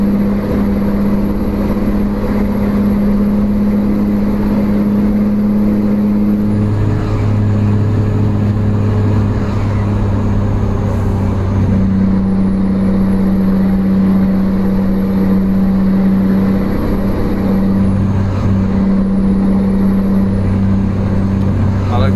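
A modded truck engine in Euro Truck Simulator 2 drones steadily and loudly throughout, its pitch shifting in steps as gears change, with a person talking over it.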